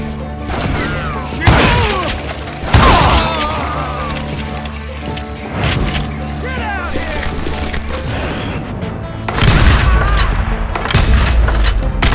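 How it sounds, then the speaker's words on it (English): Gunfire in the Western shooter Call of Juarez: Gunslinger, with several loud, heavy volleys of shots and booms spaced through the scene, and voices heard between the bursts. "Sounds like Garrett hired a whole regiment of hired guns."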